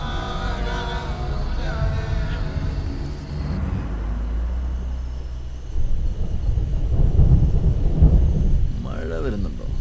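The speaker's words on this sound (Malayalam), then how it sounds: "മഴ വരുന്നുണ്ടോ?" Thunder rumbles low and heavy, then rain sets in and builds to a steady wash on surfaces, with a voice briefly heard near the end.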